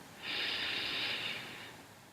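A single deep inhalation during a yoga breathing exercise, a steady airy rush swelling in and then easing off, close and alone without talk.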